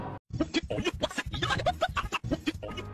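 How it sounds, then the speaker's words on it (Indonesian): Chickens cluck in a busy, continuous run of short, overlapping calls, close and fairly loud, with no voices over them. "Atau beberapa yang lain sibuk nangkepin ayam."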